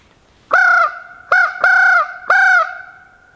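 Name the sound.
crow call imitating raven or crow for turkey hunting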